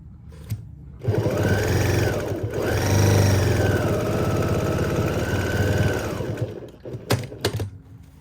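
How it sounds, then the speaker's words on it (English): A sewing machine stitching fabric for a potholder runs in a steady, buzzing whir for about five seconds, slowing and pausing briefly midway, with a few short clicks and bursts before and after. "I'm going to come back and start sewing again a little bit down"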